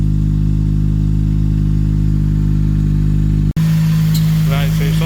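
A Honda EP3 Civic Type R with a newly fitted engine idles steadily, giving a loud, close, continuous hum. The sound cuts abruptly and resumes with a different tone, and a voice talks briefly over it near the end.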